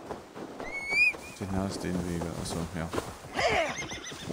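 A horse in the video game Assassin's Creed Valhalla gives a loud, close, drawn-out whinny with snorting, followed by another shorter neigh, over game ambience.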